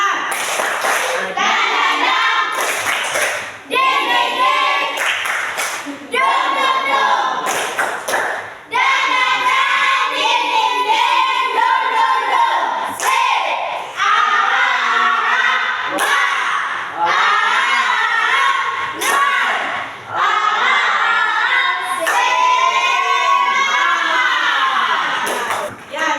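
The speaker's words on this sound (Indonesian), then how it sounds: "Ya 1, 2, 3 tepuk semangat" A class of children performs the 'tepuk semangat' spirit clap during a school lesson. Loud chanted voices are punctuated by bursts of sharp group clapping, repeated in several rounds with short pauses between them.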